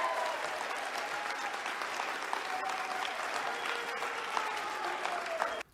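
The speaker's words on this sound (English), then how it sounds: "Somebody just booed." A lone audience member boos, a sustained voiced jeer rising out of steady crowd applause and murmur in a large conference hall at CPAC.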